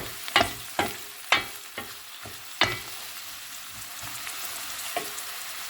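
Peppers go into a pan with onions for tripe kavurma and get stirred; spatula scrapes strike several times against a constant soft sizzle of frying, with no talking.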